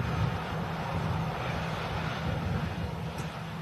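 An EasyJet airliner arriving from Alicante lands at Manchester Airport, heard as a continuous broadband engine roar with some wind noise, fairly loud and steady throughout.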